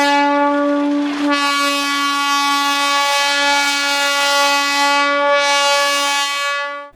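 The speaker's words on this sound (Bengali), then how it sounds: "এইমাত্র লাস্ট ট্রেন এসে ঢুকলো" Darjeeling toy train pulling into the station at night, a loud, sustained horn blast holding steady for several seconds close by, with no talking.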